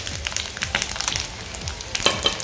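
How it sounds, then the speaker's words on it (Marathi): Eggs frying on a tawa over a gas flame, a close, steady crackling sizzle with scattered pops and light scraping throughout. "अंडी आपली इथे व्यवस्थित फ्राय झाले आहेत"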